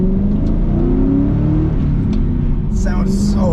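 Ford Mustang with an aftermarket exhaust, its engine revving loud and close in a deep, steady roar that rises and falls, ending with a brief higher whine.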